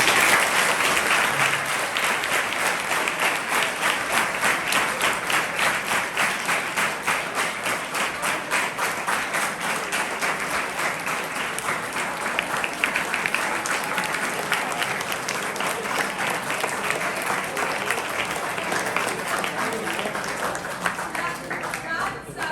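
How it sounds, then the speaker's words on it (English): A large audience applauds steadily and loudly throughout, a dense sustained wash of clapping with no break, honoring a top AI and internet researcher from South Korea at an education event. "Give him a clap."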